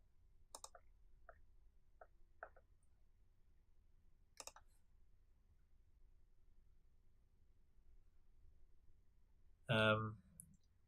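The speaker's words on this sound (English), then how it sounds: "Click on OK." Several sharp computer mouse clicks sound alone in a quiet room, a few spaced single and double clicks, ending in a louder burst of clicking.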